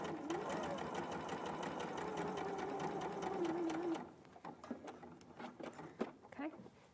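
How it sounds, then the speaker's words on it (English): A sewing machine stitches fabric in a fast, steady, rattling run for about four seconds, then stops, leaving quieter scattered clicks and handling sounds, with a voice talking faintly underneath. "I'm going to carry on stitching to this point here"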